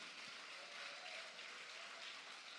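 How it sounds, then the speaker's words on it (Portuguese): Steady applause from a church congregation during a service, a continuous wash of clapping with no pauses, moderately distant. "Aplauda ao Senhor Jesus."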